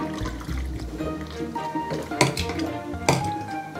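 A spoon clinks and scrapes against a jar while stirring pickling ingredients of squid, dried mushrooms, garlic, liquor, salt and food-grade alkali, a few close, bright knocks over a soft clatter.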